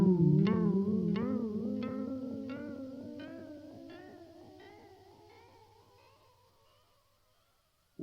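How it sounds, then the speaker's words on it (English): A Red Panda Raster V2 delay pedal repeats a plucked guitar phrase, each echo shifted up a semitone so the line keeps climbing in pitch. The repeats are steady and rhythmic and fade gradually toward silence. "We can already hear that the signal is going up because we are in the continuously forward mode."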